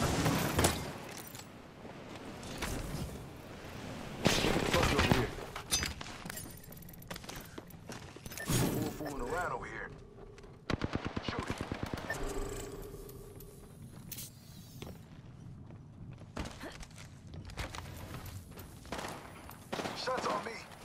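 Bursts of gunfire in an Apex Legends match, scattered sharp shots and rattling volleys at varying distances, mixed with other game noise over a busy, cluttered stretch.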